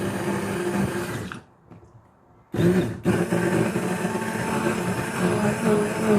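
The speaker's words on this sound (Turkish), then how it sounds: "mikserimizde sürtüyoruz." An electric mixer whips mascarpone cream for tiramisu, giving a steady, loud whirring drone that cuts out for about a second near the middle, then restarts and runs evenly to the end, with no talking.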